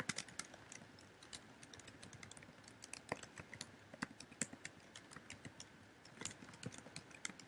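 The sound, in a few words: typing on a computer keyboard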